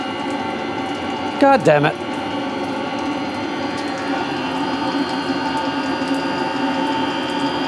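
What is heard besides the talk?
water pump of diesel heater shower running with an airlock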